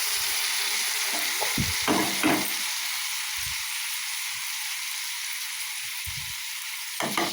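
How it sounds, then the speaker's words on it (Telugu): Boiled Maggi noodles stirred into fried egg in a hot pan, a steady sizzling hiss with occasional spatula scrapes and clinks against the pan. "ఈ మ్యాగీని కూడా ఇట్లా చక్కగా కలిపేస్తాం"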